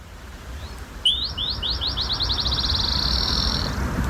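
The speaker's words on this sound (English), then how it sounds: "there's a black-chinned sparrow calling" A black-chinned sparrow sings a single accelerating trill of high notes that speeds into a rapid run, fairly close, over faint outdoor background noise.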